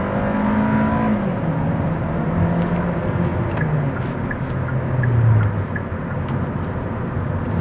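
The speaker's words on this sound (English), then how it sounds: "so it's full acceleration" A Hyundai Sonata DN8 (2020) under full acceleration on a night drive in Korea, a steady engine and road roar with a rising whine as the revs climb and the gear shifts, heard from inside the cabin.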